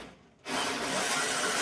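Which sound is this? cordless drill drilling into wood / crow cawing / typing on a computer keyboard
cordless drill drilling into wood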